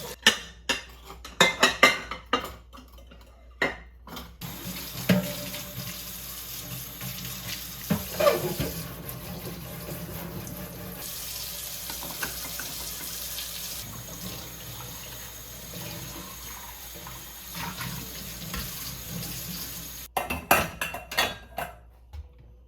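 A kitchen faucet runs into the sink during a sink cleaning, a continuous steady wash of water with clinks of dishes and cutlery in bursts near the start and end.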